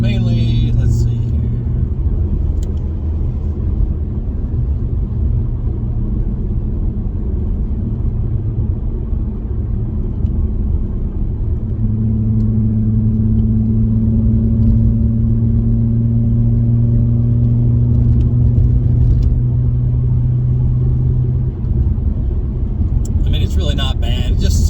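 Low, steady exhaust drone from a 2016 Ford Mustang V6 (S550) with the muffler deleted, heard from inside the cabin while driving; a deeper tone swells partway through as it pulls harder, constant and fairly loud throughout.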